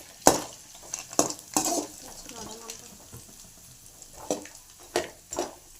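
Watermelon seeds are stirred in a pan while roasting for a sweet laddu, giving sharp intermittent scraping and clinking of a spoon against metal over a faint sizzle, close by.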